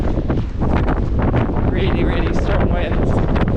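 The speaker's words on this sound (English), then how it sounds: "Really strong winds." Strong gusts roar against the microphone on a windswept walk, a dense, loud, continuous buffeting that swells and rolls throughout, with a voice partly buried beneath it.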